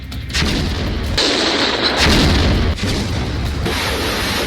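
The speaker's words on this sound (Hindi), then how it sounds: "रूस की तरफ से कीव पर ताबड़तोड़ मिसाइल से हमला किया गया" Russian missile strikes hit Kyiv during the war, producing loud, heavy explosive booms that roll into one another with sustained rumbling and no voices.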